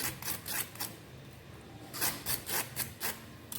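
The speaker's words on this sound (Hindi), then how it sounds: "ये देखिए कितनी क्रिस्पी, आप आवाज़ से पहचान सकते हो।" Crisp fried bottle gourd snack crunching in a few bursts of dry, crackly bites, close and fairly quiet, with a pause in between and no talking.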